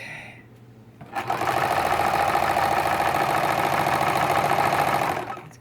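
A Necchi 3101 sewing machine starts up after a quiet moment and runs at a steady, fast stitching rhythm for about four seconds, close and clear, then slows to a stop.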